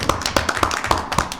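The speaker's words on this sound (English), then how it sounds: "We can still applaud." Meeting attendees applaud together, a brief, moderately close patter of hand claps with sharp individual claps standing out over a steady crackle.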